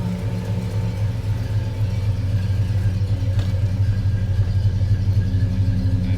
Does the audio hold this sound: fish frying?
no